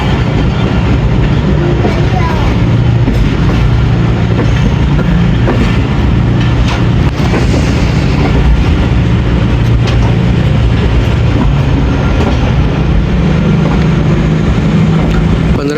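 A passenger train, the 40 Down Jaffar Express running between Attock and Lahore, rolls slowly through a station it normally skips, its steady low rumble and wheel noise continuous and close throughout, with faint murmurs of voices in the background.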